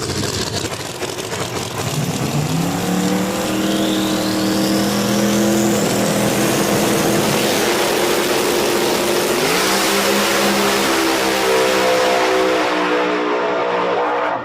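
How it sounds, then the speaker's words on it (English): Pro-charged drag cars, including the Murder Nova, roar down the strip at Virginia Motorsports Park. The loud, sustained engine howl climbs through gear shifts, then fades as the cars pass. "Oh, that was a great drag race, folks, neck and neck, but Murder Nova gets there first and turns on the win light"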